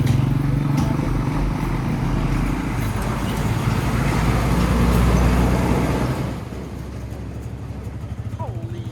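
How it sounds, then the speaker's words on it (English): A loud, rumbling tractor engine drones steadily nearby on a road in Pakistan, with road noise, then drops off and quiets near the end; some voices are faintly present. "Tractor."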